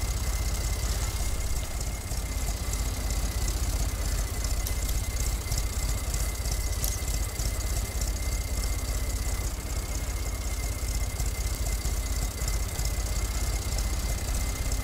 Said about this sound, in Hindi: ट्रैक्टर भी नहीं जोर लगा रहा है